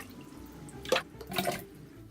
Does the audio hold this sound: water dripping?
yes